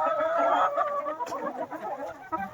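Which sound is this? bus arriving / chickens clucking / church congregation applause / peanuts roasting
chickens clucking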